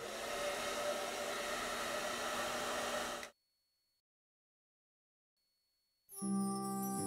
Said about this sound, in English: The hairdryer was perfect.